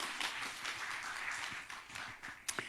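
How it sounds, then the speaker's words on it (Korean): A church congregation claps together in a steady patter of many hands, fairly faint and distant, thinning out toward the end with a few separate claps. "이 세 분들 위해서 박수 한번 해주세요"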